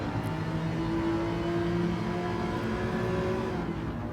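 A Porsche engine hums steadily in Gran Turismo 7 with a sustained, even drone at cruising speed, no revving peaks, and no talking.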